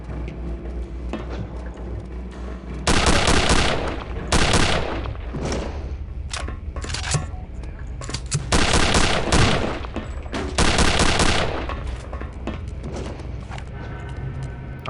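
Bursts of gunfire in Return to Castle Wolfenstein, with loud rapid volleys around the third, fifth and tenth seconds over a steady game background and quieter shots in between.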